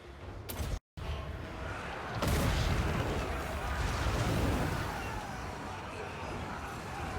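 A barrage of artillery fire and explosions rumbles in a Total War Warhammer III battle where troops come under fire: a sharp blast, a brief cut, then heavy sustained booming and crackle; a voice speaks over the bombardment.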